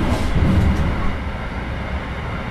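Regional train in Train Simulator Classic rumbling steadily along the track, a dense continuous low rattle and roar with no voices, slightly heavier in the first second.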